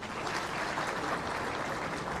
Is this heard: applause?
yes